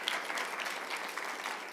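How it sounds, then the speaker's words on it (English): An audience at a university undergraduate competition event applauds in a steady, dense round of clapping that holds evenly throughout, moderately loud and without voices over it. "I'm also going to ask you in the audience to give yourself a round of applause"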